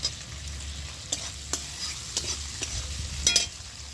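Large prawns are chopped with a spatula in a frying pan, a quiet ongoing sizzle broken by several sharp metallic scrapes and taps against the pan, close and without speech.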